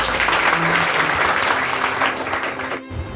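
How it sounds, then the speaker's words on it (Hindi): An audience at a motivational talk breaks into sustained, dense applause that fills the space, continuing steadily before tapering off near the end. "एक बार अशोक चा के लिए ताली बजा दो"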